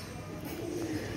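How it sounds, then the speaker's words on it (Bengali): A rare silver dom pigeon kept by a breeder gives a single short, soft coo up close over quiet background noise. "এটা হচ্ছে সিলভার দম কবুতর"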